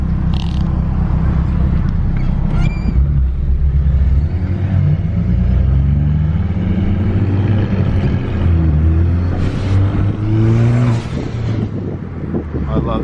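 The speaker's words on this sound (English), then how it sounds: "I love the turbo sounds." Trucks with turbocharged engines rumble and rev on the way to a truck meet, with turbo spool and whoosh rising over a steady, loud engine drone and road noise throughout.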